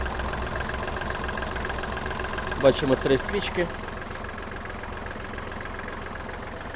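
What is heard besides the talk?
small diesel tractor engine idling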